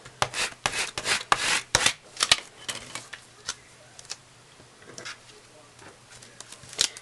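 Vinyl is rubbed firmly on its front and back to release it from the backing for a giving plate project. Close, scratchy strokes come quickly at first, then slow to sparser rubs with no speech.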